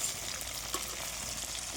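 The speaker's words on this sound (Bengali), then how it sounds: "দেখো মাছের একটা পিঠ কিন্তু ভাজা হয়ে গেছে। তো এটা একটু উল্টে দিয়ে দেখবো।" A steady, crackling sizzle of fish frying in hot oil in a pan, close and continuous with faint clinks, no voices.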